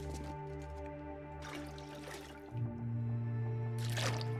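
Water being collected in The Long Dark survival game, a short liquid trickle and drip heard over a steady low ambient drone, with a louder sustained tone swelling in midway.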